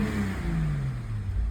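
A VW Corrado VR6 with an open Neuspeed intake filter revs inside the car, a steady mid-pitched engine drone whose pitch slowly falls over a short, continuous stretch.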